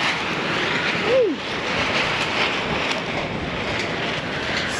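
Strong storm wind gusts outdoors, a broad roaring rush buffeting the microphone. It runs continuously with a brief swelling gust and no speech.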